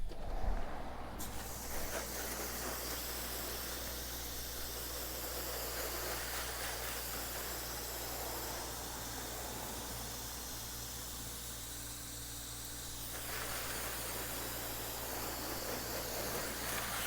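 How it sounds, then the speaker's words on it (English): A garden hose sprays water over a car parked outside a garage, a steady hissing wash that runs continuously and loudly for most of the stretch, with a constant low hum underneath and the spray easing off near the end. "I'm going to wash it with the hose and just spray it down"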